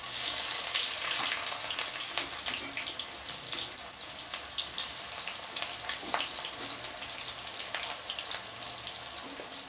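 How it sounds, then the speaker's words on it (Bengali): Onions frying in oil with dried chillies, cumin and bay leaves for a lentil dish make a steady, moderately loud sizzle with crackling pops, alone and without speech. "পেঁয়াজটাকে একদম লাল করে আগে ভেজে নেব।"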